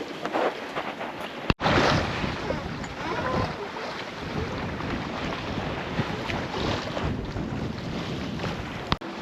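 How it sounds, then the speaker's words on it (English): Strong squall wind buffeting a sailboat at sea on a solo passage from Bora Bora to Tonga, a loud continuous roar with rushing water and waves and a couple of sharp knocks. "I'm right under the clouds now, and the wind is now 17 knots."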